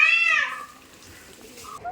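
A single loud, drawn-out meow from a cat opens sharply and close, then fades into quiet room background with faint rustling.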